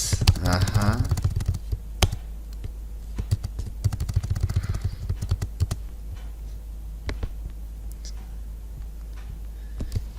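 Computer keyboard keys are tapped for shortcuts like Ctrl+V and backspace. The clicks come in scattered bursts, close and fairly quiet, and a voice speaks softly near the start.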